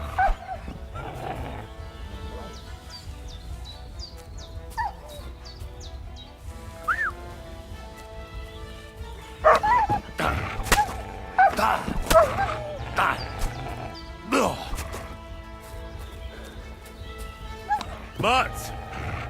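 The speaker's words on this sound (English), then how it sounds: "good dog, Mons." Dog barking in the medieval world of Kingdom Come: Deliverance II, repeated yips and barks scattered over about twenty seconds, some close and loud, with birdsong and ambient game sounds in the background.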